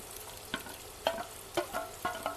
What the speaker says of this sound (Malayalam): അതിലേക്ക് നമ്മൾ കട്ട് ചെയ്ത് വെച്ച ചെറിയുള്ളിയില്ലേ അതും 4 പച്ചമുളകും കൂടി ഇടാം.